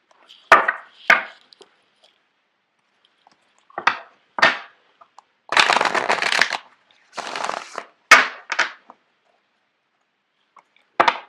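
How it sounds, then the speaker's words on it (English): Tarot cards being shuffled by hand in separate bursts, sharp riffles and longer flurries of flapping card edges with quiet pauses between, close and clear with no talking. "I'm going to shuffle out the cards for you guys."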